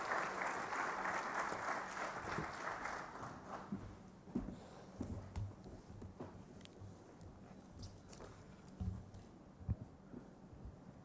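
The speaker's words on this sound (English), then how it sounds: "let's welcome him with a rousing applause" Audience applause at a formal government celebration for the International Year of Millets 2023, welcoming a minister; full clapping for about four seconds, then thinning to scattered, uneven claps and thuds.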